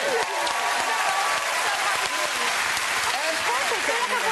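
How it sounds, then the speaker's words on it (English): A television studio audience applauds drummers, a dense steady wash of clapping that fills the whole stretch, with a voice speaking over it partway through. "a round of applause for all those drummers."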